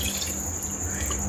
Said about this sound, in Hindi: ये वही दही वाला बाउल था, मैंने उसमें पानी डाल दिया।